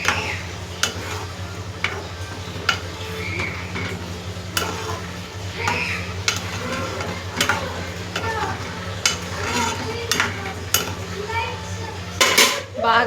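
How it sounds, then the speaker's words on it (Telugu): Okra tamarind stew (bendakaya pulusu) simmering in a pot on the stove, a low steady bubbling bed punctuated by sharp clinks of a utensil against the pot. "చూసేయండి, మరుగుతుంది."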